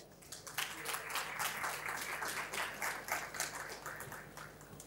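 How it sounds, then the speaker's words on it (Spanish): Sustained applause from an audience welcoming a speaker at a real estate tokenization talk, dense steady clapping throughout at moderate level. "vamos a darle un gran aplauso para Néstor."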